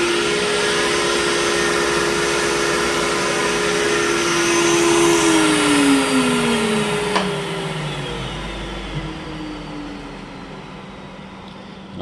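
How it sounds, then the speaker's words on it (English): A dust collector runs alongside a CNC router on a DIY multifunction table enclosure: a loud, continuous whooshing roar, with a high whine that slides downward midway as a motor spins down. "whenever I turn the router on, the dust collector goes on"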